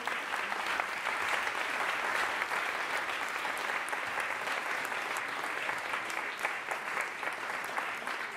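A steady round of audience applause for students at a Cité de la Réussite debate event, dense and continuous clapping from a large crowd throughout.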